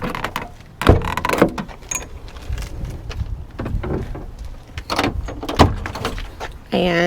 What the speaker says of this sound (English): We'll show you the inside as the door slides open in a second